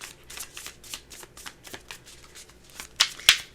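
Tarot cards shuffled by hand in a steady riffling rhythm, close and clear, ending with two sharper snaps of the deck.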